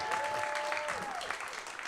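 A crowd at a junior showcase applauds Vincent with steady, dense clapping throughout, and faint voices are audible underneath.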